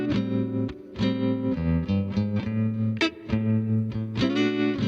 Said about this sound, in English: We have an Oxford reverb with a 140 plate.